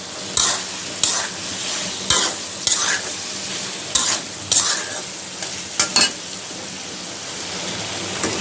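Potatoes frying in a pan with shrimp and taro stolons, a steady close sizzle broken by repeated sharp scraping bursts of a spoon stirring, roughly eight strokes spread unevenly across the clip, with no talk.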